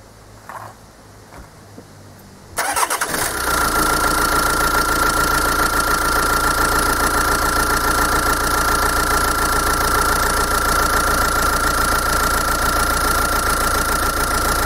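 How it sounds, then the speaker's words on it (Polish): A diesel car engine fitted with a Bosch CP3 high-pressure fuel pump cranks and fires after a short quiet lead-in, then settles into a loud, steady idle with a constant knocking rattle and a persistent whine. "i oczywiście robimy próbę odpalenia"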